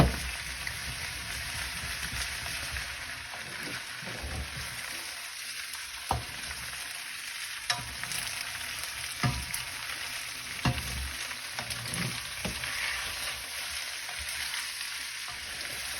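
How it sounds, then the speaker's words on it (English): Udon noodles, chicken and bok choy sizzling in a wok during a stir fry, a steady soft crackling hiss with occasional sharp pops and clinks, no talking. "You can hear the sizzling, that's good."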